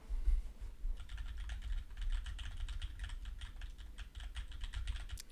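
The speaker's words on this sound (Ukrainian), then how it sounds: "Давайте послухаємо, як буде чутно клавіатуру" Rapid clicking of a computer keyboard behind a microphone, a dense run of keystrokes after a brief pause, fairly quiet and close over a low background hum.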